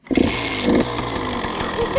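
Small two-stroke engine of a KTM SX 85 dirt bike, running close by with light throttle blips over a steady idle buzz, and a voice speaking over it.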